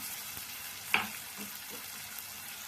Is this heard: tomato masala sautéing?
yes